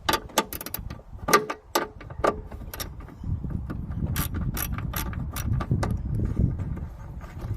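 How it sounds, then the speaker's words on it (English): Ratchet clicking away at a 10mm bolt on a Land Rover Freelander 1 bonnet, sharp rapid ticks in bursts early on, then a steadier run of clicks over low rumbling handling noise, close by. "now I've got that bolt out, which was again a 10mm"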